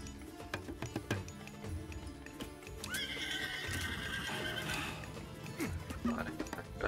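A horse neighs in the video game Age of Mythology Retold, a clear whinny over clip-clopping hooves and light game sounds.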